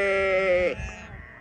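A sheep on a Turkish farm gives one loud, close bleat with a wavering pitch. It breaks off into a rough trailing sound, followed by low farmyard background noise.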